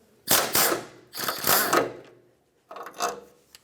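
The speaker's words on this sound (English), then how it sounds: "I'm actually going to use a 1/2-inch socket just because my bolts are, well, slightly damaged" Three bursts of fast clicking from a ratchet wrench with a 1/2-inch socket turning slightly damaged, non-original bolts while a 1996-2002 Toyota 4Runner rack and pinion is replaced, loud and close with short pauses between strokes.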